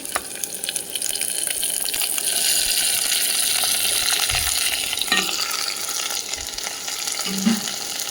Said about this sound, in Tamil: ஒரு பச்சை மிளகா இதெல்லாம் போட்டு நல்லா கலக்கிக்கிடணும்